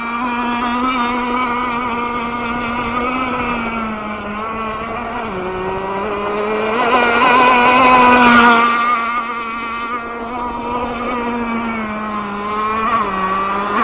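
An Aeromarine Chaos RC boat engine runs during break-in with a close, steady, buzzing whine that dips and climbs in pitch and peaks loudest near the middle, with no voices.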